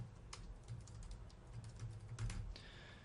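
Quiet, close clicking of keys on a computer keyboard as a name is typed, a brief irregular run of soft taps with small pauses between them.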